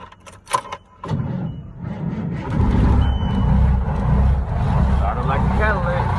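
A Ford L9000 dump truck engine cranks briefly, then catches and settles into a deep, rumbling idle close by, with voices nearby.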